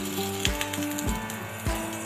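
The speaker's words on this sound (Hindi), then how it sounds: "ऑयल में ये फ्राई होंगे तो क्रिस्पी से बनेंगे" A mooli paratha fries in oil on a pan with a steady crackling sizzle. Several dull thumps and scraping knocks land at regular intervals as it is pressed or turned.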